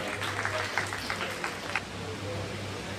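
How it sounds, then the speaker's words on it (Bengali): Audience at a school quiz competition clapping, a moderate burst of applause with sharp hand claps over a steady low hum, close and fairly loud, tapering off. "একদম জোরে হাততালি আপনাদের জন্য"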